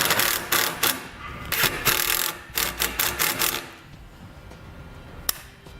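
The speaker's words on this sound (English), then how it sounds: "I'm just going to use a couple self-tapping screws and screw it right into it." A power driver runs self-tapping screws into a metal base plate on a 2018 Jeep, in bursts of rapid ratcheting whirs, several short runs close together, then quieter handling and a single sharp click near the end.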